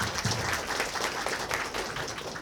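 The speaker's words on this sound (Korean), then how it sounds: "박수로 맞이해 주시기 바랍니다." Audience applause welcoming a presenter at a business briefing event, dense steady clapping from a room of people lasting throughout.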